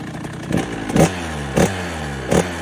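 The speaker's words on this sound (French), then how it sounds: "Bon, j'ai démarré la moto et on peut lire." A running 50cc motorcycle engine idles with a steady low drone, punctuated by three short, louder throttle blips or clattering surges spaced about half a second apart, close and alone.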